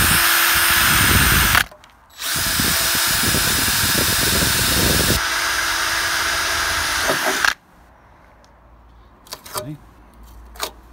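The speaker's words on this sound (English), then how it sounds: "carefully drill these two holes out." A power drill with a 4mm high-speed steel bit whines loudly in two long bursts while drilling holes in a Land Rover Freelander 2, with a brief pause between, then cuts off, leaving quiet handling clicks and knocks.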